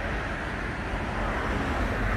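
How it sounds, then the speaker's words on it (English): Traffic streams past on a four-lane main road, a continuous broadband roar with no gaps, steady and fairly close for the whole stretch. "it's on the main road with four lanes of traffic going past it"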